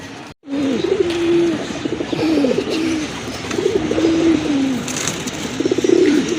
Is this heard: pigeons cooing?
yes